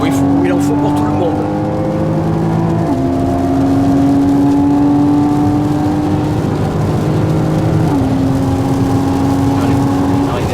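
A Porsche Boxster circles a track on a relaxed driving-course day, its engine droning steadily with clear gear shifts and the pitch stepping between gears, loud and close throughout while an instructor talks over it.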